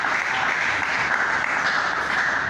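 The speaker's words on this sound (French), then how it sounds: "Applaudissons notre Dieu." Church congregation applauding in praise, a dense steady wash of clapping that stays even and fairly close from start to finish.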